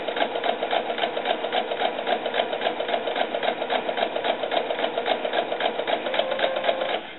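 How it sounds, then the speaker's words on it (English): A sewing machine runs steadily, stitching rows of ruffles on a small doll sun dress, a close continuous whirring hum with a fast regular clatter of the needle. "So I'm just going to sew normally. I'm just going to keep going, sewing row after row after row"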